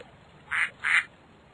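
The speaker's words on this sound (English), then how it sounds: "Ducks." A duck quacks twice in quick succession, clear and close against a quiet background.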